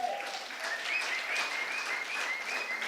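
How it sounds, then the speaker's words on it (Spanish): A church congregation applauds the Lord during a sermon, with a soft, continuous wash of clapping and a sustained tone running beneath it, moderately loud throughout. "Yo le daría un aplauso al Señor"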